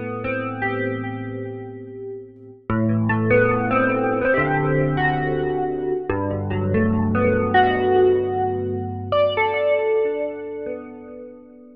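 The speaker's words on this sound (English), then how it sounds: "Warm drive effect works great on organs, guitars, and synth sounds." Numa X Piano keyboard with its warm drive effect engaged, playing sustained harmonic chords with a tube-like overdriven tone, steady and close with no voices, changing chords every few seconds.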